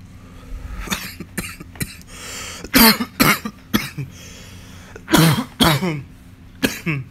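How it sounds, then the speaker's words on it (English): A man coughs repeatedly in harsh, close bursts, mixed with throat clearing, about eight fits spread unevenly over several seconds. "Excuse my coughing."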